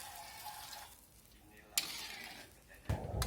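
Water poured into a pan of cooked, fragrant spice paste for a home-style tofu and tempeh coconut-milk vegetable dish, sizzling and hissing in a couple of sharp bursts with stirring between them, close and moderately loud.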